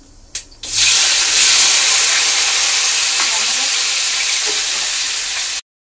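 Diced tomatoes go into a pan of frying cumin, bursting into a loud, steady hiss after a brief clatter, the sizzle holding close and strong before cutting off.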